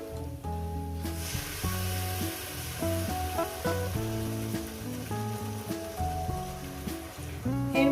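Fried onions and spices sizzle in a pan for a potato chicken curry, a soft continuous hiss sitting beneath louder background music.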